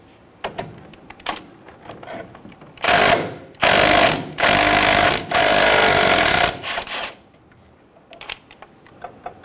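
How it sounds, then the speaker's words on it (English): A power tool with a 12 mm socket spins off a brake line bracket bolt on a Toyota Tacoma during a front brake job, in four loud buzzing bursts up close, framed by quieter clicks and handling noises. "Using a 12 millimeter socket, remove the bolt for the brake line bracket."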